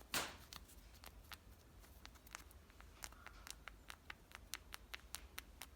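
An old fuel line or primer bulb on small engine equipment crinkling as it is squeezed, a run of faint, crisp crackling ticks repeating close to the mic, after an initial louder handling rustle.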